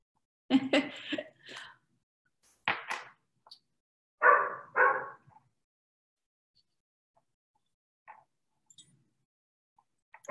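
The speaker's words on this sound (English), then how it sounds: "Do you hear my dogs barking?" Pet dogs bark indoors in short bursts, a quick cluster of yaps followed by two louder barks, then near silence with faint scattered noises.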